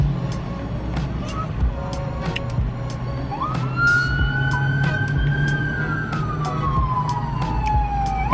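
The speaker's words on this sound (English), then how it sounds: "Yeah, it's the fire truck." A fire truck siren wails and sweeps in pitch as it passes, loud and steady over low traffic rumble, with scattered background clatter.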